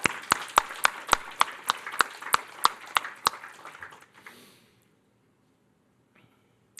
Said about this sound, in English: Please join me in giving these two incredible volunteers and humans a great round of applause